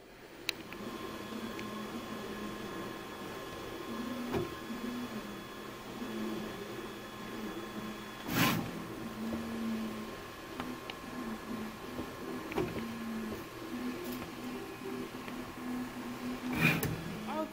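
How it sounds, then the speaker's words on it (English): A MOJO 3D printer warms up and levels its build plate at several points, giving a quiet, steady mechanical hum with tonal whine and occasional sharp clicks and taps. "It also will need to make sure that the plate is level, and it will do that in a series of 9 to 12 different points."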